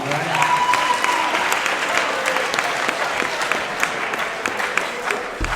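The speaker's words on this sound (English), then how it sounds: "give her a round of applause" Applause from a class of ninth graders during a firefighter presentation, steady dense clapping that fills the room for several seconds, close and fairly loud with scattered voices mixed in.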